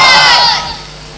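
A large religious gathering roars a slogan back in unison, a loud, brief burst of many voices shouting together that fades quickly.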